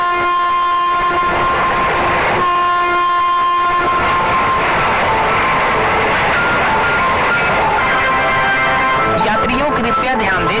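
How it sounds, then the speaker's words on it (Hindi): A train pulls away from a station, loud and close, with a sustained horn blast over steady rumbling and rolling wheel clatter that builds as it moves off, with no pauses. "तभी ये ट्रेन यहाँ से जाने लगती है।"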